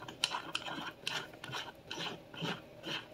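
A 3000/8000 grit combination sharpening stone is fitted into its stone holder, producing a series of close, light scraping clicks and rubbing knocks in short bursts.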